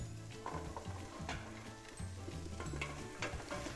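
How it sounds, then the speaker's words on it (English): Sweet potatoes sizzling in a soup pot for a sweet potato and chickpea peanut stew, a continuous close frying hiss broken by repeated stirring scrapes, with no talk over it. "we're gonna start by adding the sweet potatoes"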